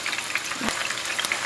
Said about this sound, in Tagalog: Mainit yung mantika. Ayan. Ilagay na natin.